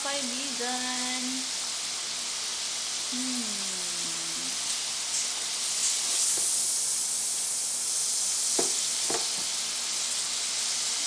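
French fries frying in hot oil in a pan, a steady broad sizzle and hiss with a few faint clinks, while a voice briefly talks over it.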